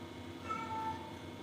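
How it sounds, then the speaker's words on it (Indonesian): A cat gives one soft, brief meow, faint and somewhat distant, over a low background hum. "Halo kucing."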